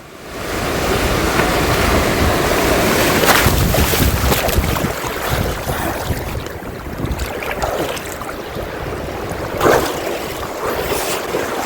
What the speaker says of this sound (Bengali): দেখো ঢেউটা জাস্ট আসছে, দেখো একবার, ও এই আওয়াজটা অনুভব করো